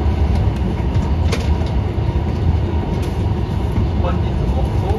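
An H5-series Yamabiko Shinkansen on the Tohoku line pulls away from the platform, a steady low rumble and rolling hum filling the background at moderate loudness, with faint squeaks and clicks on top.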